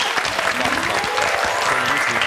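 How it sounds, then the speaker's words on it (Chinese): A TV health talk show studio audience claps, a lively, even spread of many hands that stays loud and steady, with a little speech mixed in. "先为这个碰君掌声鼓励。"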